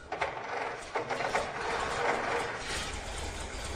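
Continuous mechanical buzzing and rattling from the vibrating ignition coils of a vintage car, a busy vibrating whir with faint ticking, steady and close without pause.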